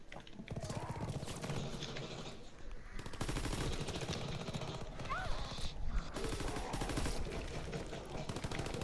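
Automatic gunfire from an M2 carbine in the zombies video game Mob of the Dead: dense, rapid shots run almost without a break, with game effects and some voices mixed in.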